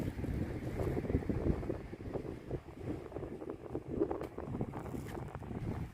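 Sea wind gusts steadily across the microphone on the coast beside a seawater fish and shrimp canal, a continuous rough, buffeting roar with no voices.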